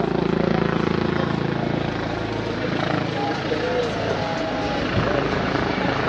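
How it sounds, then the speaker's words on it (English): Steady loud helicopter rotor thrum filling a street scene in Toulouse, continuous and nearby, with faint voices underneath. "The helicopter is here"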